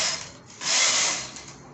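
Carriage of a domestic knitting machine sliding across the needle bed while knitting rows, a brief close rasping swish that swells midway, with no talk.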